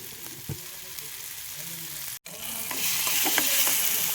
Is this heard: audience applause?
no